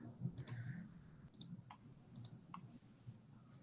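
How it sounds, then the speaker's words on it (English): Sharp computer mouse clicks come in small pairs and triplets over a low room hum, close and fairly quiet, with no talking. "I keep clicking on the wrong thing"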